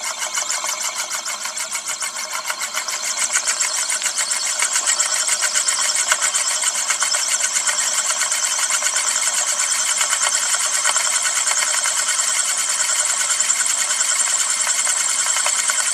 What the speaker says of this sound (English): It keeps spinning faster and faster,